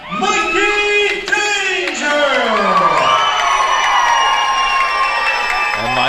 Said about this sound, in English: Mikey getting a pretty good response from the crowd